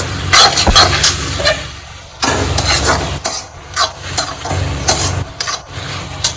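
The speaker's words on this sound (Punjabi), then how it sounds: "ਤੜਕਾ ਆਪਣਾ ਭੁੱਜ ਗਿਆ ਵਾ" A tadka of tomatoes and green chillies for arbi sabzi fries in a pan. Uneven sizzling bursts mix with spatula scrapes and knocks as it is stirred up close.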